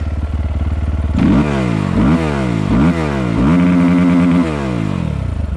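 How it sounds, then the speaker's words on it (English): A 2022 SSR SR300 dirt bike engine revs under wide-open throttle, loud and close, rising sharply in repeated throttle blips over a steady idle. "So let's do a rev test"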